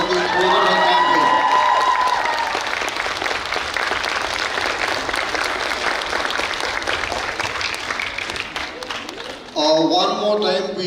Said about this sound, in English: one more time, round of applause for all the members of the Integrated Campaign